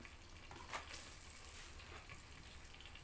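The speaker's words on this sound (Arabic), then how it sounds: "حطيت اهو حوالي 3 معالق زبده عليهم 3 معالق دقيق" Butter and flour sizzling in a pan over the heat, a steady, soft crackling hiss that runs evenly throughout with a few faint clinks and no voices.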